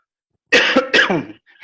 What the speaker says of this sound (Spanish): cuando toso lo voy a acercar más, así escucha más fuerte mi tos